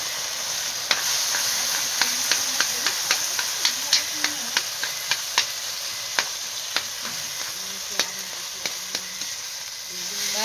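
Bamboo shoot frying in a pan, sizzling steadily while a utensil stirs it, with sharp scraping knocks recurring every half second or so and faint voices murmuring in the background.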